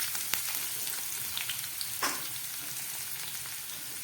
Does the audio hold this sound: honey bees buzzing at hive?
no